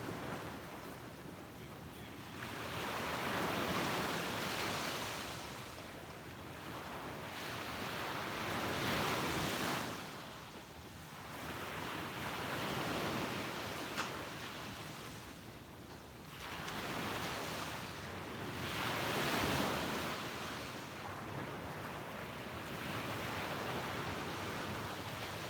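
Ocean waves roll onto a beach at sunrise in slow, regular surges, each swell of surf rising and fading over several seconds, soft and steady with a little wind, no voices.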